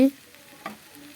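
Fish frying with chopped green chilies and onion in a pan, a short soft sizzle with one brief stir or clink partway through.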